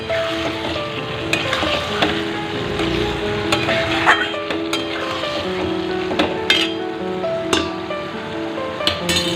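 Chicken pieces sizzle and fry in a pan of well-fried spice masala as a spoon stirs them, with steady crackling and occasional scraping clinks of utensil against the pot, close and continuous throughout.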